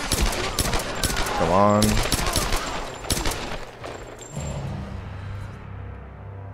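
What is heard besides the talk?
gunfire in the video game Tomb Raider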